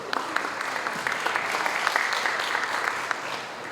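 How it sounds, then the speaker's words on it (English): Audience applause at a Hult Prize award ceremony, a bright, continuous wash of clapping from a crowd, sustained throughout at moderate level. "Please give a round of applause for Dr. Sotchanok."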